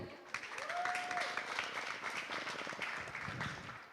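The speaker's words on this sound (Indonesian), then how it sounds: "Kita berikan tepuk tangan." Audience applause at an urban-issues discussion event in Jakarta, a dense steady clapping that swells in and holds for several seconds, with a brief voice over the start.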